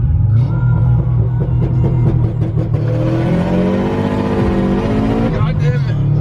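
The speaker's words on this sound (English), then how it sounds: "the car's not actually fast, it just sounds fast" A car engine revs hard and loud, rising and falling in pitch with a strained, fast-sounding roar, while people talk over it.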